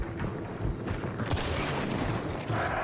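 Gunfire in Hunt: Showdown, a shot fired through a wall during a full match, with dense, continuous loud crackling and a sharper burst midway, no talk.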